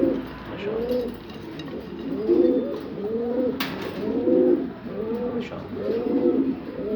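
Egyptian pigeons in a breeding loft coo close by in a run of soft, repeated throaty calls, and someone speaks briefly over them.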